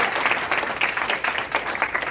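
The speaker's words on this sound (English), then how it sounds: "Let's go ahead and clap for that." A room of attendees at a Republican women's club meeting claps together, a brisk, dense patter of hands that stays fairly loud and even for the whole stretch.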